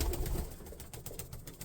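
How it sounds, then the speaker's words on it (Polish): Pigeons in a loft coo softly in low, rolling murmurs, close by and fairly quiet, with a rustle of movement over the brief stretch. "Także u mnie są takie gołębie."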